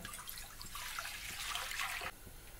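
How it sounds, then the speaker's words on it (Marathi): Water splashes and pours in a steady rushing stream into a wok on a gas stove for about two seconds, then cuts off suddenly, leaving a faint background hiss. "कढईमध्ये पाणी ओतून घेऊया"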